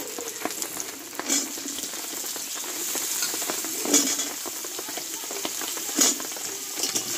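Potatoes fry in hot oil with panch phoron and ginger for a Bengali vegetarian tarkari, giving a steady close sizzle with a few louder stirring scrapes spaced through it and no talk.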